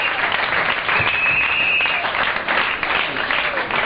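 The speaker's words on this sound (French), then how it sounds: "Acclamez très fort le Seigneur." Applause from a church congregation acclaiming the Lord during a spiritual combat seminar, a steady dense wash of clapping filling the whole moment with a faint tone running through it.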